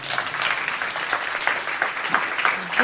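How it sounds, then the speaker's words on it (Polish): Applause from an audience at a talk on social media and creators, a steady round of clapping that holds for about three seconds, moderately loud with a few individual claps standing out. "A brawa też są spoko."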